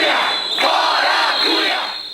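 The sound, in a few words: protesters booing the Chamber of Deputies president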